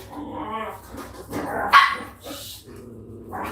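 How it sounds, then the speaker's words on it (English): Several dogs at a home in the Philippines bark and yip in short bursts, one sharp bark standing out loudly, with faint whimpering between barks. "don't know why my dogs are making all the noise"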